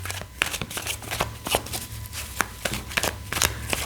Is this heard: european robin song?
no